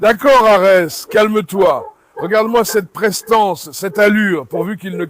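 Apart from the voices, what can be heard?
No everyday noises stand out.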